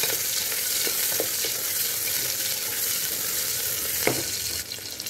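Garlic, ginger and onion fry in a pan for tomato soup, giving a steady loud sizzle throughout with a few stirring knocks of the spoon and no voice.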